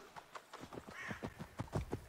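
Quick, rhythmic clip-clop of horse hooves trotting, close and steady, with a faint whoosh partway through, from the video game Assassin's Creed Valhalla.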